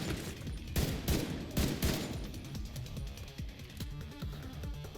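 In the video game The Division 2, semi-automatic gunfire pops in rapid, uneven volleys of sharp shots, loud and close amid game ambience and distant explosions, with no talking.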